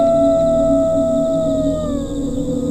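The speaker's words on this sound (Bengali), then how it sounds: "দূরে শিয়ালের ডাক শোনা যাচ্ছে।" A jackal howls in the distance, one long sustained wavering cry that slowly falls in pitch over a steady low background hum.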